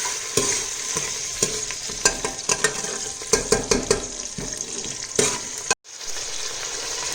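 Moong and tur dal mixed with chopped tomato, onion, green chilies and curry leaves frying in hot oil inside a pressure cooker, a steady sizzle broken by repeated clinks and scrapes of a stirring spoon, with a brief dropout near the end.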